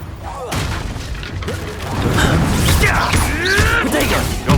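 The Incendio fire spell is cast in Hogwarts Legacy, a loud, sustained fiery whoosh and roar that swells over a few seconds amid rumbling combat effects and brief vocal cries.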